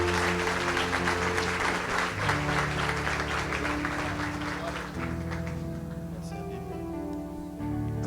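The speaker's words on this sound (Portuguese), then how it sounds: "Vamos dar uma salva de palmas para Jesus?" A church congregation claps continuously for Jesus over loud music with sustained chords, the applause steady throughout.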